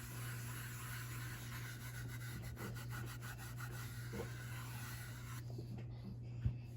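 Steady rubbing and scraping of a DIY hand cast being rubbed down by hand, close and fairly quiet, with a constant low hum throughout and a small knock near the end.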